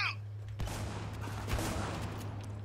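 Shotgun fire in the war shooter Spec Ops The Line comes as two loud, booming blasts about a second apart. Their roar rings out over a steady low in-game hum.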